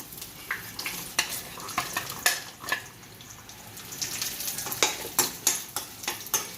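Soft sizzling of cashews and raisins frying in ghee, with frequent clinking stirs of a metal utensil, some strokes louder than others; close and steady, no talking.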